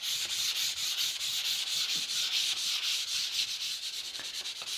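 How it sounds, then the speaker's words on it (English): P180 or P240 sandpaper lightly denibs coated wood joinery with a steady, close rasping rub, swept back and forth in a quick even rhythm with no talking. "just lightly denib the surface by going over the surface with the sandpaper, P180 or P240"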